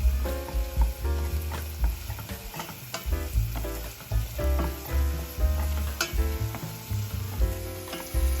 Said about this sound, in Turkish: Soğanları ekliyorum soğanlar kavrulunca salçasını ekliyorum.